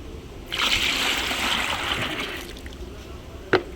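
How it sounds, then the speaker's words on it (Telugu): Water is poured into a starch mixture in a short, close, splashy stream that tails into a trickle, followed by a single sharp knock. "ఇప్పుడు దీంట్లో మనం వాటర్ కలుపుకోవాలండి ఇదిగోండి వాటర్"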